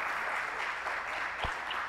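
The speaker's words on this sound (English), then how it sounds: "can we have the big round of applause for Dr." Audience applause at a medical oration in a conference hall: dense, steady clapping from a large crowd, moderately loud and continuous, with one brief thump partway through.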